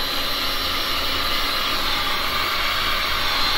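A heat gun blows steadily over freshly poured resin paint, a loud, close, unbroken whooshing roar with no voices.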